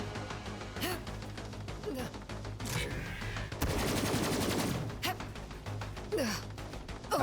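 Video game gunfire in Borderlands 3, rapid bursts of shots and scattered crashes at moderate level, with a short sustained volley midway and a few breaths or gasps between.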